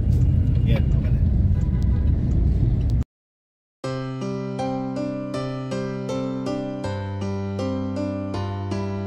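Dense street traffic in Binondo, Manila makes a loud, continuous wash of engine rumble and road noise for about three seconds. It cuts to a brief silence, then steady melodic music with repeating notes takes over.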